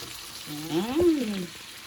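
Chopped onion hits a hot pan for a sirloin steak dish, a sudden sizzle swelling for about a second before settling, fairly close and without talk.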